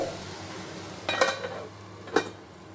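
Potatoes cooking covered in a pan on low heat, a soft quiet sizzle with a couple of brief clinks of a lid or utensil near the middle and end.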